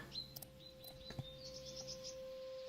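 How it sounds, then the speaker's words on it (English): Recorded birdsong played on a livestream: faint, high chirps and short tweets repeating over a steady low hum, distant and quiet throughout. "We're gonna listen to birds"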